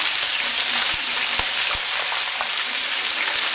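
Floured calamari frying in hot oil, Greek style, a continuous bright sizzle with a few soft clicks and pops throughout.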